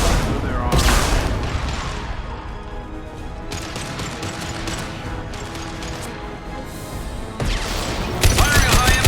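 Heavy gunfire blasts in Mass Effect 2, high-impact shots punching through armor: loud broadband bursts at the start and end with a dense combat din between, thick and close throughout.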